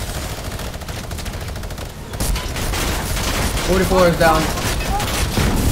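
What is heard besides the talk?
heavy gunfire in the video game Fortnite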